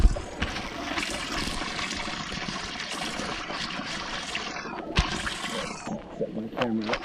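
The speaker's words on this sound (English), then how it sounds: "There's water running down here" Water trickles and splashes down a small waterfall in a salamander stream, a steady close babble with a brief louder splash midway.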